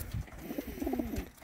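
Young racing pigeons cooing close by, a soft, low, rolling coo repeated in a short burst over faint background noise.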